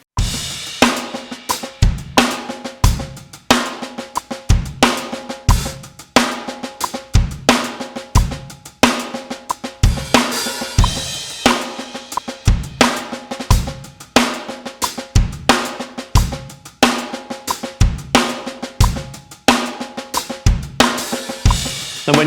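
A drum kit pounds out an accented paradiddle groove, with kick drums on the one and the and of three and snare backbeats on two and four woven through hi-hat strokes, loud and driving throughout with no voices.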